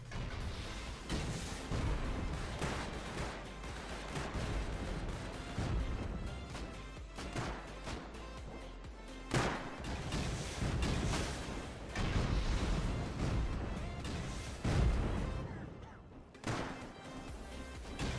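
Massed rocket explosions and gunfire during a large base raid in the video game Rust, a continuous dense barrage of booms and crashes with walls and gates crumbling, loud throughout.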